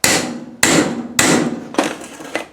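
A hammer strikes a piston removal tool seated in a vented brake caliper from a Range Rover or Defender, four sharp metallic blows in steady succession, loud and close with ringing decay after each.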